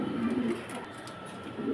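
Lahori pigeons coo softly in a farm loft, a low murmuring coo under steady background noise, faint and continuous.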